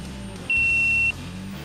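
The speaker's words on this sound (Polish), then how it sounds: "Po dmuchnięciu aż do ustania sygnału alkomat przeanalizował moje wydychane powietrze" An Alco Force Evo Silver breathalyzer is blown into and sounds one steady, high electronic beep lasting just over half a second, close and clear over a low background hum.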